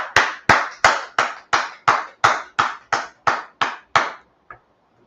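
A dozen sharp claps in a steady rhythm from an audience at a Tuesday night brotherhood class at ISUPK headquarters in Harlem, New York, each crisp and close, the last one coming alone after a short pause.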